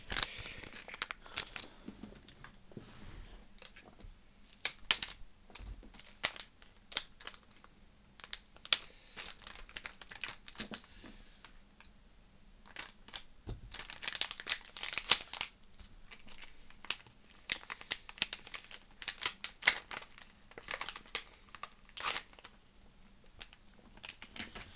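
Plastic crinkling, crackling and tearing as a FIFA World Cup Russia 2018 sticker blister pack is opened, a steady run of close, busy rustles and sharp snaps with no talking.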